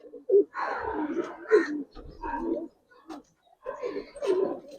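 Giribaz pigeons coo in short, throaty bursts, several rolling calls close by with brief pauses between them.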